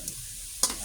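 Squash and fish sauce sizzle in a pan, a steady close frying hiss across the short moment with a brief louder clink or stir near the end.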